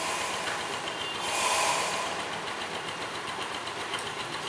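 A Yamaha Mio scooter idles steadily nearby with a serviced CVT fitted with light 9 gram rollers. It gives a continuous engine drone with faint, rapid ticking in the background.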